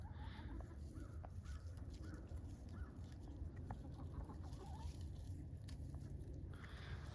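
Chickens cluck softly and a rooster calls in a quiet backyard flock in winter, with faint scattered bird sounds over a low steady background rumble.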